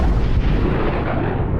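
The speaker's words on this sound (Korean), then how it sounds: "맥스가 차량 하단에 미리 장치해둔 부비 트랩이 작동하게 되면서 엄청난 폭발을 일으키게 되고" A booby trap planted under a car in a Mad Max film detonates in a massive, roaring explosion, a sustained deep rumbling blast that fills the whole moment with heavy low-end power.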